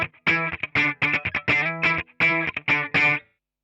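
Electric guitar played straight into a Boss AW3 auto wah pedal, a run of short plucked phrases with a sweeping, vocal-like filter, heard alone and fairly loud.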